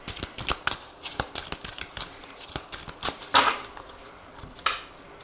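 A deck of Aphrodite oracle cards with small heart cards is shuffled and cut, giving a quick run of crisp riffling flicks and taps close by, with a couple of louder slaps near the end.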